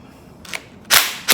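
A bolt being undone on a car engine in a garage, heard as two sharp, loud impact-wrench-like bursts, a brief faint one followed by a stronger burst and another short one, with no talking.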